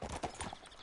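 Horse hooves clip-clopping in a quick trot in Red Dead Redemption 2, a short run of close, evenly spaced hoof strikes with no talk over them.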